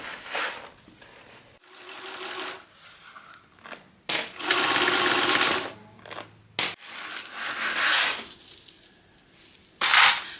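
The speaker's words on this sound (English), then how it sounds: "let's go and get this sewn together at 1/4 of an inch seam allowance" A sewing machine stitches a quilt seam at a quarter-inch allowance, running in several bursts of rapid mechanical whirring and clatter, close and loud, with brief pauses and handling noises between runs.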